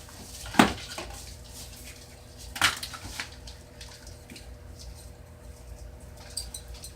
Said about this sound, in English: just put a little bit of dirt in my pot